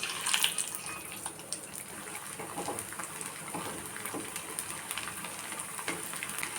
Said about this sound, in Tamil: நம்ம இப்போ இதை பொரித்து பார்த்துருவோம்.